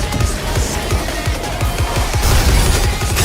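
Rapid, sustained cannon and gunfire bursts from the Nikke video game, dense repeated booming shots rolling continuously and loudly under a busy mix.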